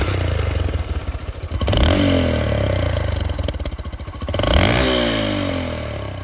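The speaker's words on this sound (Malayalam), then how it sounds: "നമുക്കിനി ഈ ഒരു ബൈക്കിൻ്റെ എക്സോസ്റ്റ് നോട്ട് ഒന്ന് കേട്ട് നോക്കിയാലോ." A Hero Impulse motorcycle revved loudly up close, two sharp throttle blips rising from a rough, clattering idle, the exhaust note swelling and falling back each time, with no talk.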